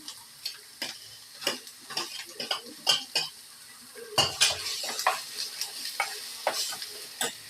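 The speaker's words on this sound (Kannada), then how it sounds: "ಈಗ ಆಲ್ರೆಡಿ ಟೊಮೊಟೊ ಫ್ರೈ ಆಗ್ತಾ ಇದೆ." Tomatoes and onions fry in a pan while a utensil stirs and scrapes in a steady run of sharp clinks, with the scraping growing busier partway through, close and moderately loud with no talk.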